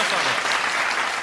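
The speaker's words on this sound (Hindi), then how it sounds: "एक बार तालियां बजा दीजिए" A crowd at a Hindi poetry recital breaks into applause, a full, even burst of many hands clapping close and loud for the whole moment.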